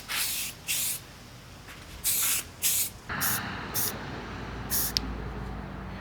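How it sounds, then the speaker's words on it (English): A spray can sprays primer onto cut pine wood, a series of short hissing bursts of about a second each separated by pauses, close and clear over a quiet background. "add a couple coats of spray primer"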